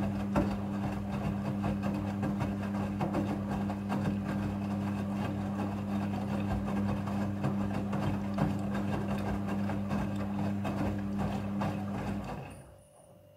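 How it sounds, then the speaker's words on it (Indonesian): A Midea front-loading washing machine runs its water rinse cycle with a steady, close mechanical hum and churning that holds evenly before cutting off near the end. "Pada proses pembilasan dengan air, mesin cuci akan mengatur jumlah kebutuhan air secara otomatis."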